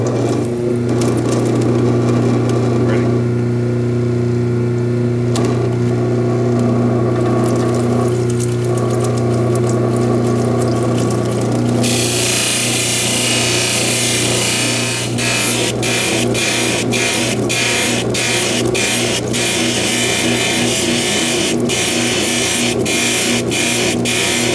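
A lapidary grinding wheel shapes a stone cabochon with a steady loud motor hum and continuous grinding, then turns harsher and brighter partway through, with sharp repeated scraping ticks as the stone moves across the wheel.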